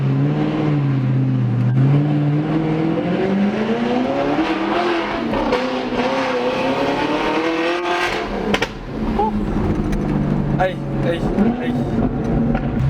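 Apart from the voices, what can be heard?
car engine revving with throttle blip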